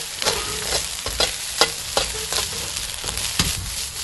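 Fried rice with pork lard tossed in a hot pan, sizzling under a series of sharp scraping, clattering stirs about every half second, close and loud.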